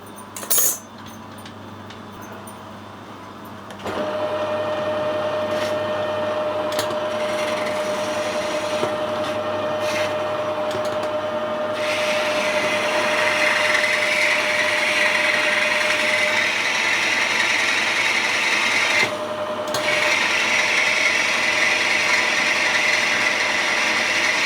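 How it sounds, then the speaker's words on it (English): A lathe takes a roughing cut on a bronze boiler fitting, a steady mechanical whine and hum running continuously with a faint tonal ring as the tool bites, close and fairly loud. "I'm just going to take a roughing cut to make it round."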